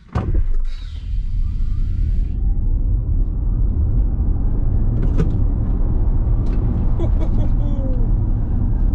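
An Audi e-tron Sportback electric SUV launches hard from a standstill, giving a steady loud road and motor rumble with a faint rising whine heard from inside the cabin.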